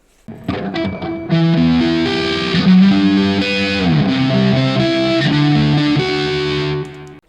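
A heavily distorted, high-gain EVH electric guitar amp plays thick sustained chords, loud and saturated with a buzzing, compressed edge, ringing out alone.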